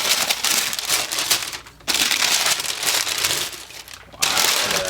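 Tissue paper crinkling and rustling as a pair of sneakers is unboxed, in close, continuous bursts with short pauses between handlings.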